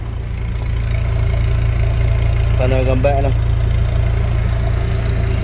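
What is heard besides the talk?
Kia Spectra 1.6 manual car engine idling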